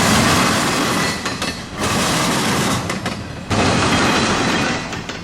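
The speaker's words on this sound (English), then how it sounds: "Like machine gun bursts, wheels over the brand new double diamond slam in perfect rhythm." Freight train wheels slam over a brand new double diamond rail crossing in Florida in rapid, rhythmic bursts, loud and close, in three dense runs separated by brief dips in the rolling rumble.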